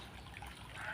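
Steady rushing, trickling flow of a deep, wide river near a village, continuous and moderately faint, with no voices.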